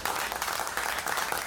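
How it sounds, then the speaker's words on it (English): A brief applause sound effect on a talk show, a dense wash of many clapping hands at a steady level, with no speech over it. "Woo, applause track."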